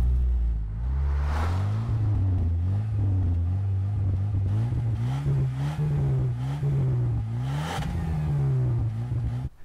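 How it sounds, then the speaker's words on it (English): A 1977 Porsche 911S engine revs repeatedly, its pitch climbing and falling in a series of throttle blips over a steady close idle, with no talking. "So I will now introduce you to my 1977 Porsche"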